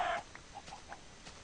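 A Minecraft chicken clucks, a louder squawk at the start followed by several short, soft clucks spaced irregularly, faint and alone without talk.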